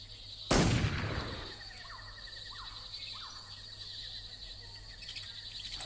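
A single sharp gunshot rings out in the video game Metal Gear Solid 3: Snake Eater, followed by a faint, steady ambient hum with soft chirping in the background.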